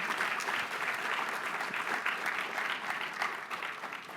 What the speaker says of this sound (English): please give her a round of applause for this effort of being here today